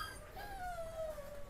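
A puppy at an animal rescue shelter gives a faint, thin whimper, a single drawn-out whine that slowly falls in pitch over a low background hum.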